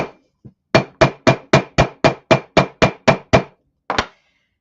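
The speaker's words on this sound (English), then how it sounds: "hammer the other side to get them even" A hammer strikes a sterling silver ring on a tapered steel mandrel: eleven sharp, evenly paced metallic blows close up, then a short pause and one final double tap, with no talking.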